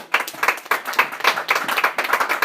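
A church congregation claps in bursts of rhythmic, close applause for Jesus Christ, the hand claps steady and bright with no voices over them.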